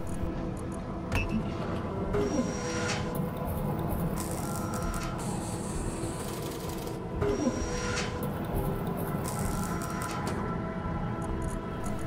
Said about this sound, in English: Now all we have to do is click it and it'll process all the materials needed to make this large landing gear